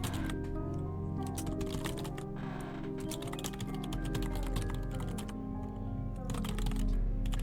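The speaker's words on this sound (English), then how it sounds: "these typing noises are very funny" Rapid, clattery keyboard typing in the video game Anthology of the Killer runs continuously over a low humming background, quick keystrokes with occasional heavier taps and no talking.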